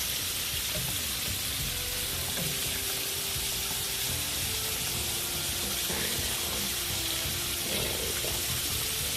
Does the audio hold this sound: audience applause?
no